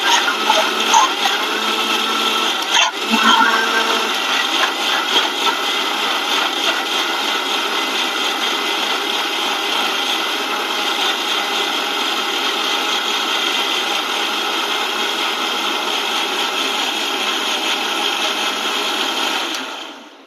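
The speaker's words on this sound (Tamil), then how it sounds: "அப்படி அரைக்க போகிறேன்றதை பாருங்கள்." A mixer grinder blends an apple milkshake with milk, a loud, steady electric whir running unbroken for about twenty seconds before cutting off at the end.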